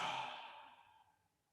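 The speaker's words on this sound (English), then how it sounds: "Turn your head to the side and yawn." A person yawning with the head turned to one side, one long breathy exhale that starts fairly strong, then softens and trails off over about a second and a half, close and quiet.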